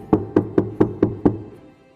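Six evenly spaced knocks on a wooden door, fairly close and moderately loud, each with a short resonant thud, the last one fading into quiet.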